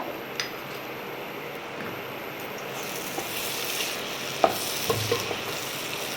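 Cabbage fries in a pan with a steady soft sizzle and hiss, broken by a few light clinks and scrapes of stirring, fairly close and moderately quiet, with no talking.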